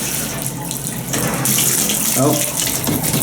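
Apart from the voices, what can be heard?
shower running in a hotel bathroom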